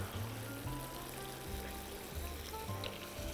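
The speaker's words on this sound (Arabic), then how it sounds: "باش نزيدو شوية ماء سخون يغلي" Boiling hot water is poured into a pot of pasta with vegetables and shrimp, making a close, steady rushing splash with a low gurgling pulse that repeats roughly every half second.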